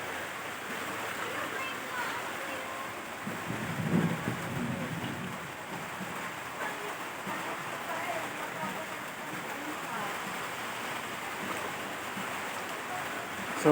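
Hail and rain fall during a storm in a steady hiss of patter on surfaces, with a brief swell of low rumble partway through and voices faintly under the downpour.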